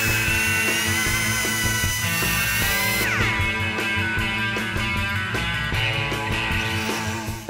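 A metal shifter console panel for a 1961 Chevrolet Impala is welded and cut, making a loud, continuous grinding whine with steady buzzing overtones. It stays close and unbroken for the full length.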